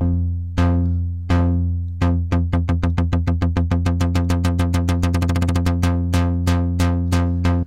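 A synthesizer plays repeated plucked tones that speed up into a rapid stutter and then slow again, with oscillator B and noise through an LFO-modulated filter, bright and filtered, with no voices.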